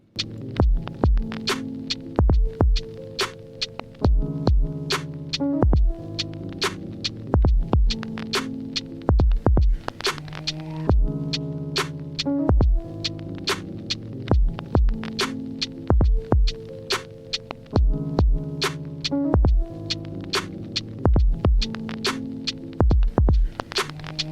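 A drum beat programmed on an Akai MPC 1000 with sidechain compression: sharp, punchy kicks and snares hit in a steady rhythm while a sustained bass and chord layer pumps, ducking under each hit, loud and without voices.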